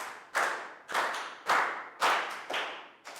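Five sharp hand claps from a class of children doing a school exercise routine, spaced about half a second apart in an even rhythm, close and clear with no talking.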